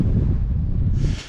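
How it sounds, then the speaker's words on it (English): Strong wind buffets the microphone during an off-road outing in Oregon, making a steady low roar and rumble with a brief airy swell near the end. "It's windy as fuck."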